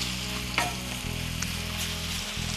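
Beef and onion brown in a pan with a steady, close sizzle and frying hiss, broken by a brief stir or scrape near the start; no one speaks.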